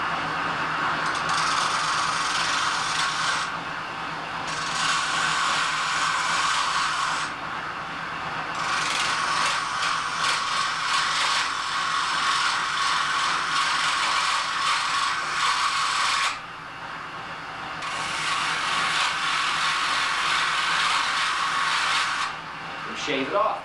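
A pool cue shaft turns on a powered lathe while a razor knife trims the tip, a steady whirring, rattling machine hum that stops and restarts in long stretches, with someone talking over it.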